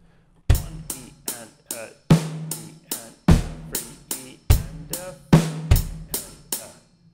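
A drum kit bar played by hand with kick drum and left-hand snare, crisp close hits in a steady pattern, deep kick thumps alternating with sharper snare strokes, played alone without talking.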